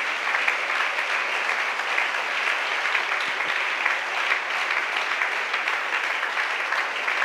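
Congregation applauding in a church service, dense sustained clapping from many people filling the room at an even level for several seconds.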